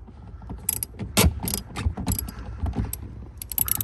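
A ratchet clicks in quick uneven runs while a screw is backed out of a Porsche Panamera tail light, close and moderately loud with small metallic knocks between strokes.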